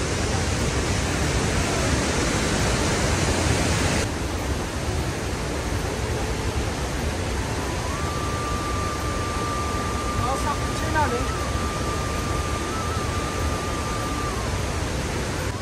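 Water rushing steadily along a mountain stream beside a rough track in Kashmir, a loud continuous broadband wash filling the whole scene, with a faint thin tone drifting in partway through.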